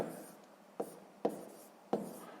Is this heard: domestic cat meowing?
no